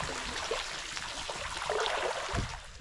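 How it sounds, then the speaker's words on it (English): Creek water trickling thinly over rocks near an iron-stained, rusty stream bank, a soft steady wash with faint gurgles close by, no voices. "just barely trickling over the rocks"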